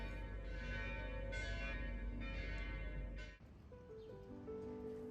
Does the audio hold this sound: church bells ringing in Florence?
yes